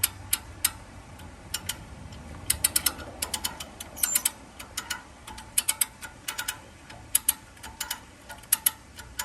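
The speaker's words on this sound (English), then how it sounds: "I've never used a come-along winch before." A come-along winch ratcheting as it pulls a stuck 1990s car free, giving crisp, close metallic clicks in irregular clusters with brief pauses, heard alone without talk.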